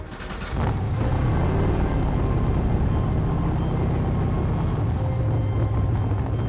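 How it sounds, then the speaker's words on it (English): A petrol V8 of about 700 horsepower in a Batmobile roars up after a brief quiet start, then holds a loud, steady, deep rumble close by, with no talking. "I mean, there's nothing like hearing that V8 roar."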